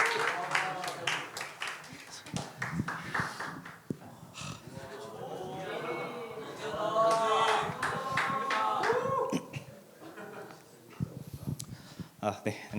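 A congregation at a church youth worship service applauds to welcome a speaker to the front, a burst of clapping in the middle with people talking before and after.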